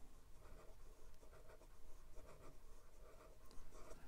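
A Leonardo Momento Zero Grande fountain pen nib writes on paper under light pressure, giving a faint, steady scratch of strokes close up.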